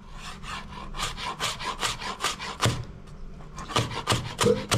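A knife chopping onion, tomato and garlic for soup, heard as quick, even strokes in a steady rhythm with a brief pause midway, close by and with no talk.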